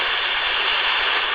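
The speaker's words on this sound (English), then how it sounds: "You go to upper sideband, you listen to the white noise that's out there, and it sounds like this" Steady hiss of white noise from a radio transceiver tuned to upper sideband, broad and constant at even loudness throughout, with no voices.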